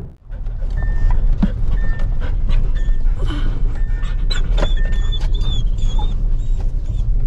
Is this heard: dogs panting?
yes